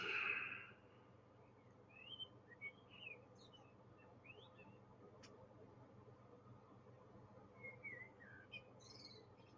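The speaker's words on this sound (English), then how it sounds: "the birds suddenly got really loud" Several birds chirp and whistle in short scattered phrases over a steady low background hum, fairly faint and at a distance.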